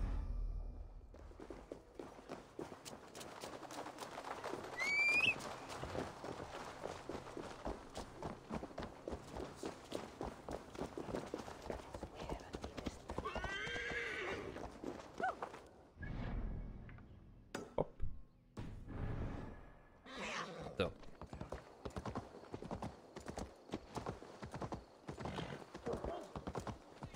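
Horse in Assassin's Creed Valhalla trotting with rhythmic clip-clop hoofbeats, a neigh partway through, then footsteps and game sounds, all under talk.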